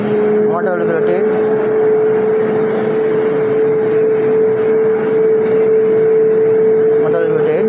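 A three-phase synchronous motor running during a laboratory test, a loud, steady, even whine with a constant pitch throughout, and a voice speaking briefly over it.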